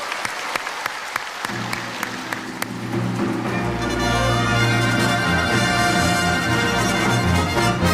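A church congregation at a New Year worship service bursts into applause, scattered claps quickly building into loud, sustained clapping, with music swelling underneath.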